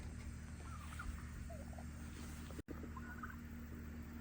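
Faint wild turkeys gobble a few times in the distance over a low, steady background rumble during a turkey hunt.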